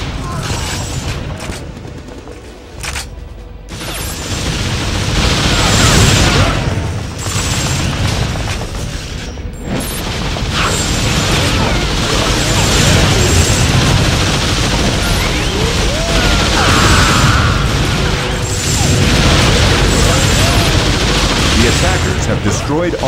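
Repeated explosions and gunfire as fuel barrels are blown up in the video game Assault, a dense, loud, continuous barrage of booms and shots throughout.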